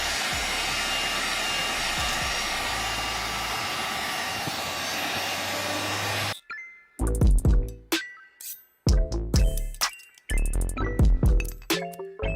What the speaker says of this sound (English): use the heat gun to heat up the 3M tape first